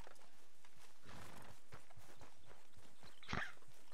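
Horse hooves in the Red Dead Redemption 2 video game, a soft series of clip-clop steps at a walking pace, fairly quiet, with a brief louder burst near the end.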